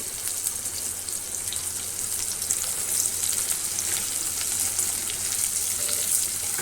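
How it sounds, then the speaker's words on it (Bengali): Potatoes and onions fry together in a pan in a home kitchen, giving a steady, close sizzle of hissing crackle throughout, without any speech. "আলু পেঁয়াজটা একসাথেই দিয়ে ভাজবো, একসঙ্গেই ভাজা হয়ে যাবে"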